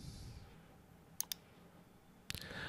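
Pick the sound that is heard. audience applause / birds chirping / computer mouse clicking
computer mouse clicking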